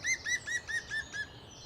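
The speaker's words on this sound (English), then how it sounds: "One of the most familiar and best loved is the green woodpecker." A green woodpecker in Richmond Park calls a clear laughing series of about six ringing notes in steady rhythm, close and distinct, trailing off at the end against a quiet background.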